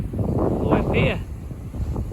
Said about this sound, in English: Proper windy today.